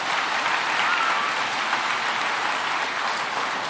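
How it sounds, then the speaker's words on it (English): Audience applause for cadets at a commencement ceremony, a dense, even wash of clapping from a large crowd, loud and unbroken throughout with no speech. "Let's give these cadets another round of applause for those great speeches."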